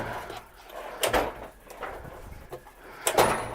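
Drawers in a workshop of an off-grid solar house are pulled open and rattled while hunting for a 9/16 wrench, a few separate sliding clunks and thumps with quiet gaps between.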